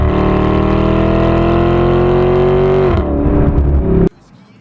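A Porsche Cayenne GTS with a naturally aspirated engine accelerates hard, a loud steady engine note rising in pitch before easing off near the end and cutting out abruptly.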